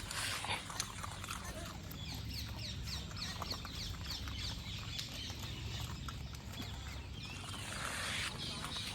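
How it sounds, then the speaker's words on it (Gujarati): Dog sounds amid a busy outdoor background of birds and rustling, with a steady high whine running through most of it. "કૂતરું મારું હશે. આવી ગયો."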